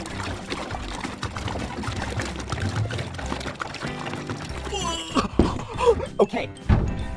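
Water is poured into a container for a kids' sink-or-float experiment, a gurgling trickle that gets stronger toward the end with a few light thunks. People talk over it.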